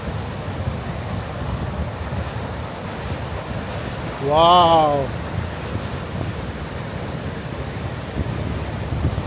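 Wind and sea waves on a windy, rainy day on the Cretan coast: steady buffeting wind noise and rolling surf throughout, with a person briefly exclaiming midway.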